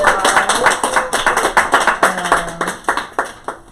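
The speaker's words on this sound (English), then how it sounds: "Let's get another round of applause." A crowd claps in a dense burst, many hands overlapping into steady applause with a few sharper individual claps standing out.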